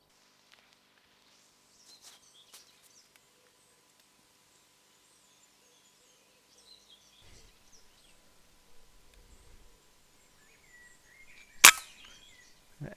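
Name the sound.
airgun shot at a squirrel in woods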